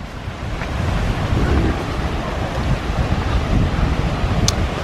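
Ocean waves washing onto the beach at Hua Hin, Thailand, a continuous loud roar of surf mixed with buffeting wind noise on the microphone, with no talking.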